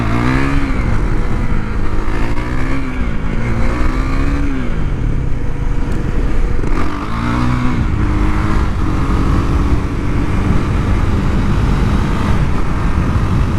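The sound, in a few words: KTM Duke 390 motorcycle engine at high RPM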